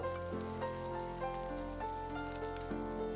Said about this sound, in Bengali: এটাও অল্প পরিমাণে দিয়ে আমি নাড়াচাড়া করে নিচ্ছি খুব অল্পই ভাজবো